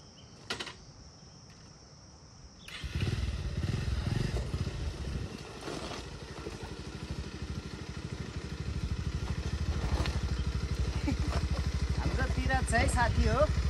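A motorcycle rides a rough village road in hilly Nepal, its engine rumbling steadily and loudly alongside rattling clatter, starting abruptly a few seconds in after a quieter stretch, with a voice over the noise.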